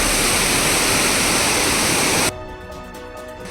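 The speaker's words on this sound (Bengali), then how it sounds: "আর এটা হচ্ছে ঝর্ণা।" Chaulbhaja waterfall in Odisha roars as a loud, continuous rush of falling water. It drops off abruptly partway through to a much quieter, thinner background.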